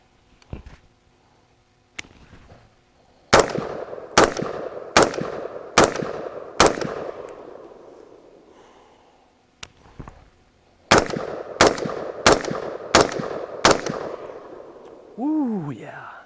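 A Daniel Defense DDM4V7 pistol fires loud, close, sharp shots: two single reports, then a run of five rapid shots, a lone shot, and a final burst of five, with a voice briefly heard at the end.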